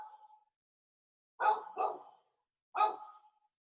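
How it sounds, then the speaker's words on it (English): A pet dog barks indoors, a few sharp barks in two bursts with quiet gaps between, moderately close and clear against a silent room. "my dog barks right when we come back"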